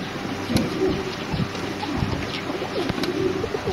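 Several varieties of fancy pigeons coo in low, throaty, repeated calls, close by over a steady noisy background, with a few sharp clicks or taps mixed in.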